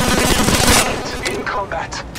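Automatic weapons fire in the mobile battle royale game Apex Legends Mobile: a loud, rapid burst of shots, then scattered single reports and short bursts as the fire tapers off.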